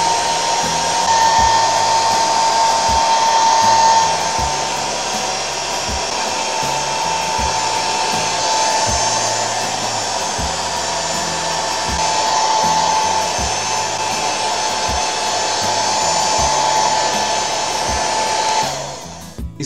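A hair dryer runs continuously at close range while drying hair backwards against its natural direction for volume, giving a steady loud blowing whoosh with faint shifts as it moves, and no speech.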